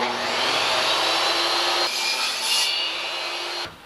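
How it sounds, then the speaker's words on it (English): A saw rips wood into thin veneers, a loud, close whining cut that runs steadily, shifts pitch partway through, then winds down and stops near the end, with no voices. "just ripping some wood"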